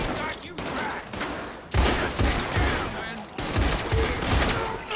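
Gunfire in the video game Red Dead Online crackles in dense, rapid volleys of loud shots that surge and ease in waves, with a person talking over the action.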